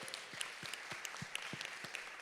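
An audience at an agri-business investment forum in Jamaica gives a round of applause, a fairly faint, steady patter of many hands clapping with no voices over it.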